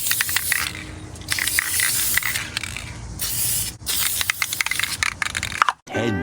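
A spray gun or can laying clear coat over a rust repair on a car, loud hissing bursts that start and stop in several passes, close up, with a brief mechanical click near the end.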